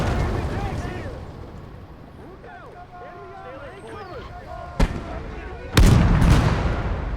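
A heavy gun in a World War II tank battle game fires two booming blasts, the second louder, over a constant rumble of distant battle noise.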